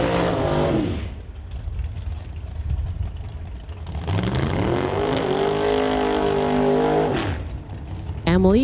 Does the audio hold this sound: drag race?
yes